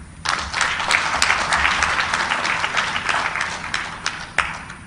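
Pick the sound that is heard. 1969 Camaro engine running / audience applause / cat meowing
audience applause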